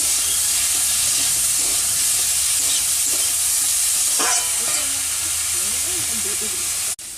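Small fish and green chilli paste frying in a pan, a loud continuous hissing sizzle that holds throughout with faint stirring underneath, cut off abruptly near the end.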